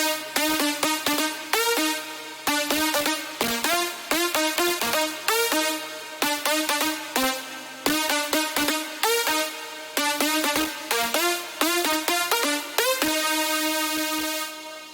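Bright Spire synthesizer lead preset layer plays a quick rhythmic melody of plucky repeated notes, loud and upfront with no voices.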